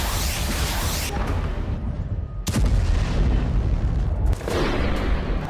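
Heavy booms from Russian bombing strikes in Ukraine, a dense roaring rumble broken by sudden loud blasts around the middle and near the end, with sustained low-frequency reverberation and no voices.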